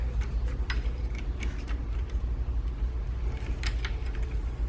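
Metal key jangling and clicking in the lock of a Thule EasyFold XT bike rack, a few small clinks over steady low vehicle hum, no talking.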